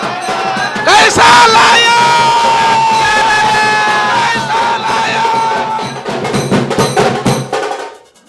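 Party workers cheer and shout in a loud crowd at an MLA's house after a Maharashtra assembly election result, a continuous dense roar with whoops and yells that fades out at the end.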